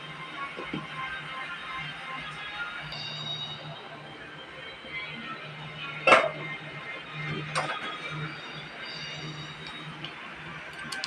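A metal lid set onto a pot of chicken adobo, one sharp clanking clink midway followed by a softer knock, over a steady low simmering hum in a kitchen.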